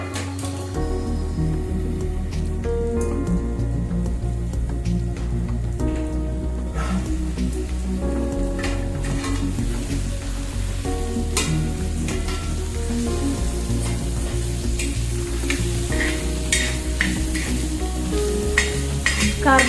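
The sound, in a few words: bitter gourd cooking under a lid on an iron griddle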